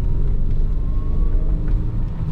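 A Lexus engine with a stumbling fault in second gear. A low, continuous rumble and drone drones on close up for a couple of seconds, fairly loud and uneven, with no talk.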